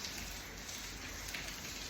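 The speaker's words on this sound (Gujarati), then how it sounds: "મિત્રો વરસાદ આજે ચાર વાગ્યાથી વહેલો ચાલુ થયો છે અને અત્યારે પણ વરસાદ ચાલુ છે" Steady rain falls in a farming area where groundnut has been sown, making a continuous, even hiss of drops with no pauses and no voices.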